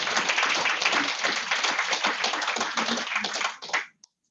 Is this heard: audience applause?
yes